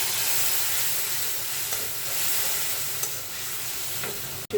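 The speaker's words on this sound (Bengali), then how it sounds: "পেঁয়াজ কাঁচা ঝালটা ভাজা হয়ে গেছে" Onions and green chilies sizzle in a pan after water is added, giving a steady hiss and frying crackle at moderate level with a few stirring clicks, alone without talk.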